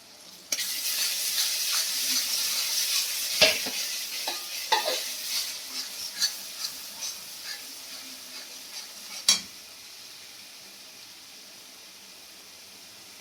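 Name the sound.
garlic paste and spices frying in pan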